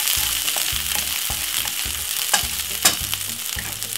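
Spring onion frying in a pan before meatballs go in, a steady loud sizzle with bursts of crackle and repeated stirring scrapes, no talking.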